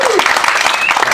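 A comedy club crowd at Dangerfield's breaks into a brief, loud burst of clapping that lasts about a second, with a whoop or whistle riding over the hands.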